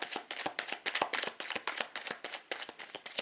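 Tarot cards being cut and shuffled by hand, a quick run of crisp riffling flutters and soft slaps close up, with no talking.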